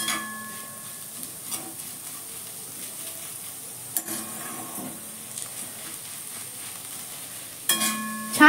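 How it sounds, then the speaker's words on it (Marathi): Bitter gourd sautés in hot oil, giving a soft steady sizzle with occasional scraping stirs and light clinks of a spatula against the pan, close and fairly quiet. "आपण तेलामध्ये कारला असं परतून घ्यायचं"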